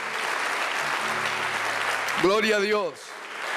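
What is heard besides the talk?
applause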